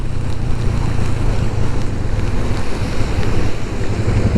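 Heavy rain and strong wind roar steadily during a motorcycle ride on a Delhi to Ludhiana road trip, a loud continuous rush of wind noise and spray with no pauses.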